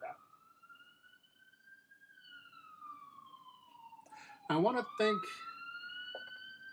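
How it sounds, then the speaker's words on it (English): A siren wails in long rising and falling sweeps from a distance, while a person speaks briefly over it near the end. "sorry about the siren."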